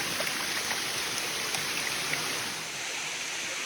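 Water rushes steadily down the Sticky Waterfall in Chiang Mai, a constant broad wash of flow and splashing that stays close and even throughout.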